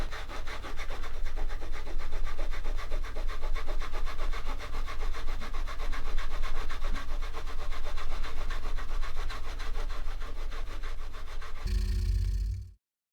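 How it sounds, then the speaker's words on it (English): A cloth soaked in surgical spirit rubs glue off a ZX Spectrum 48K plastic case, a close, steady scrubbing rasp in quick repeated strokes that stops abruptly near the end, no talking. "I used surgical spirit to clear up the glue."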